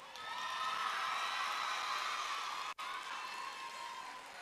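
Staff at an Eastmoor Academy graduation ceremony receive a sustained wash of crowd applause and cheering, steady and fairly distant, with one very brief dip partway through.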